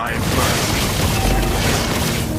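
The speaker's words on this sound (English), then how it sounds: "Your team destroyed the turret." A turret collapses in the Mobile Legends mobile game with a dense, sustained booming explosion and crumbling debris, layered over game effects and an announcer-style voice.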